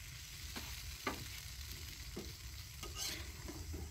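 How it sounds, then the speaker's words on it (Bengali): White noodles cook in a pan at an outdoor picnic, frying softly under a faint sizzle while a utensil scrapes and stirs in several brief, quiet strokes. "আপনারা দেখতেই পাচ্ছেন লুডুস রান্না হচ্ছে"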